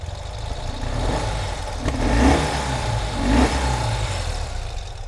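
A 2021 Ural Gear Up sidecar motorcycle engine idles cold with a steady low rumble, revving up twice in brief swells before settling back to idle.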